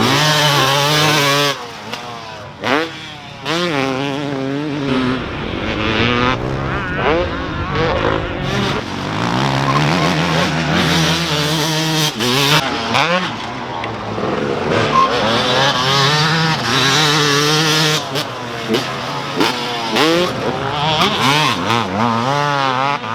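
A car engine revving up and down through manual gear changes on a road in Corrèze, loud and close, with repeated rises in pitch and drops between shifts, continuous throughout.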